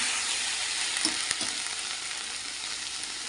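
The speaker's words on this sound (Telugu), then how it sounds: "ఇప్పుడు టమాటాలు కూడా వేస్తాను" Tomatoes frying in a pan with tender drumstick leaves, a steady broadband sizzle throughout with a couple of soft stirring knocks, close and fairly loud, no voices.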